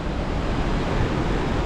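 Gitgit waterfall in Bali, a steady, full roar of falling water heard close by, dense and unbroken with a faint wind rush mixed in, no voices.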